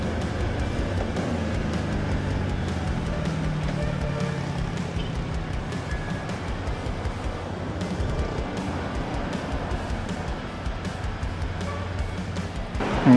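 Traffic rumbles around a Voge 525 DSX motorcycle as it rides through congested roads, a low, steady wash of engine and wind noise with faint intermittent knocks, moderately quiet throughout.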